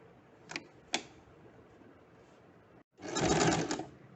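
A sewing machine stitches a lap seam, two faint clicks followed by a short steady burst of rapid needle whirring, close and fairly quiet.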